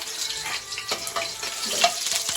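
Garlic crackles and sizzles steadily in oil in a pan, with a brief scrape of stirring partway through; no voices.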